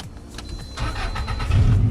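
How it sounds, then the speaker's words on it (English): A car engine cranks and catches, its low rumble building and growing louder toward the end as it settles into a steady idle close by. "start the car with it"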